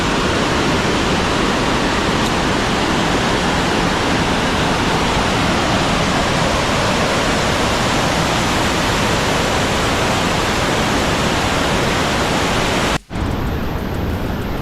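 A steady, loud roar of falling water fills the scene without pause, a dense broadband rush close by, cutting off abruptly near the end.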